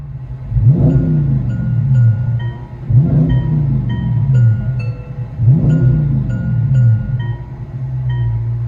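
Deep, loud idle from a Dodge Charger Scat Pack 6.4L HEMI V8 on race exhaust, punctuated by three evenly spaced revs that rise and fall, heard up close without talk.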